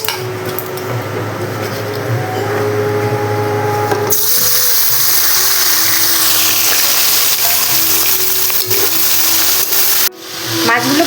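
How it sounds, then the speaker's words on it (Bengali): Fish pieces rubbed with salt and turmeric sizzle loudly in hot oil for Bengali cooking, a dense steady crackling hiss that surges as they go in and fills the whole clip, with some background talk and kitchen noise. "তেলের মধ্যে এখন আমি মাছগুলো দিয়ে দেবো।"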